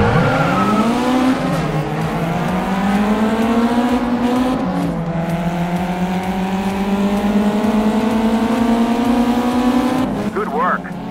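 A race car in the GT Racing video game revs and accelerates hard, its engine pitch climbing through the gears in a loud continuous roar with a brief gear-shift dip, and a voice talks over it.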